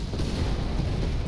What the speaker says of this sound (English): That was an artillery strike